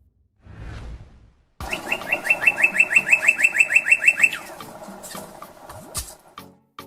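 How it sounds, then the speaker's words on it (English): Northern cardinal singing a clear series of about a dozen quick, rising whistled notes in steady rhythm, close and loud, with softer chirps and rustling before and after. "The northern cardinal is one of the most beloved and recognizable birds in the United States, renowned for its brilliant red plumage and melodious song"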